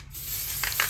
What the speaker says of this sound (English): generously spray the calendar page